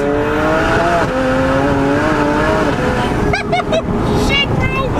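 A 600 HP BMW Z4 with an N54 engine and DCT gearbox pulls hard in second gear, its loud engine note rising steadily close by while people talk over it.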